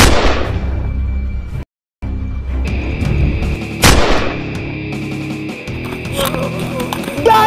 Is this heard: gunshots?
yes